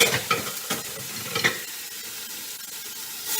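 Meat browning in an aluminum pot: a close sizzle with scraping stirring strokes in the first second and a half, then a steadier, quieter frying hiss.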